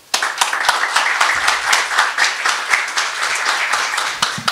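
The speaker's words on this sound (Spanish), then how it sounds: "Un aplauso, por favor." Attendees at a Corfo launch event for the 2023 Gender Agenda give a short round of applause, with moderately close, lively clapping that stays steady throughout.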